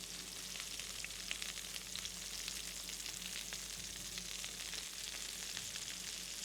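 Chopped steak sizzles and fries steadily in a pot in the video game Adios, a constant crackling hiss with small pops and no voices over it.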